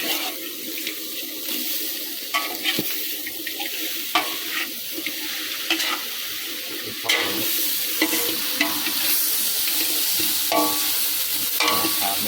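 Fish stir-fried in a pan with young green peppercorns, a steady sizzle and frying hiss with scraping stirs and clinks of a utensil throughout, close and continuous.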